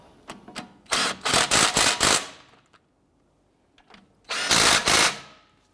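Power tool, likely an impact wrench, tightening the front caliper bracket bolts on a 2007-2014 Cadillac Escalade: one loud burst of rapid hammering, roughly 1.3 seconds long, then a pause, then a second shorter burst, with no talk.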